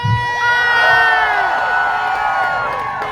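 A large crowd at a 'No Kings' protest in Salem, Oregon, cheers loudly and continuously, with shrill whoops and whistles rising over the roar.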